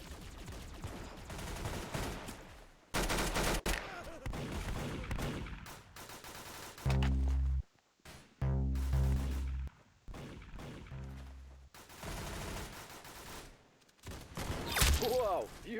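Gunfire in a shooting video game, with loud bursts of rapid shots and single heavy blasts separated by brief gaps, dense and close throughout with no talk.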